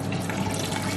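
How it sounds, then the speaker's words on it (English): Water running steadily into a cooking pot of stock cubes and ingredients for fried rice, a close, continuous splashing pour with no talk. "Now I'm going to add some water"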